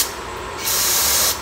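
Nitrous spraying out through the holes of a nitrous spark plug gives a loud, steady hiss in two short bursts, the second stronger, heard alone.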